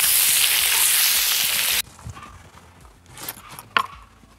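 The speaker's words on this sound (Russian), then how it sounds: "И теперь отправляем лук. И обжариваем вместе с мясом." Meat and onion fry in a kazan over an open fire. A loud, steady hiss fills the first part, then drops to a quieter crackle with scattered clinks and scrapes.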